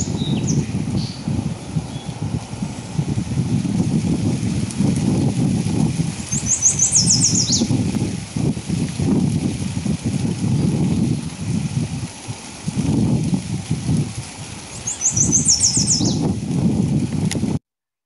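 A recording of wild birds singing in natural habitat, with high chirping phrases recurring twice over a steady low rumble of background noise, moderately distant.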